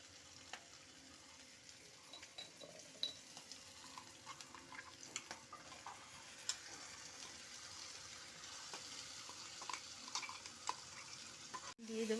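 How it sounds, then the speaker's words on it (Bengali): Onion and chilli frying in a pan, stirred now and then, with a steady soft sizzle and scraping of the spoon throughout, fairly quiet and without talk. "এবার দিয়ে পেঁয়াজটা লঙ্কাটা ভালো করে ভেজে নেব, লাল লাল হওয়া পর্যন্ত।"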